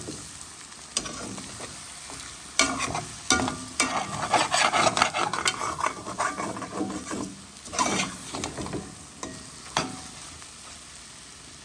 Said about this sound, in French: Il mélange encore un petit peu, comme ça tout il mélange bien.